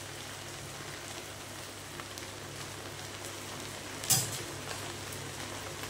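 Chicken and fried potatoes sizzle in masala for biryani with a faint, steady, rain-like crackle. A single sharp click stands out briefly near the end.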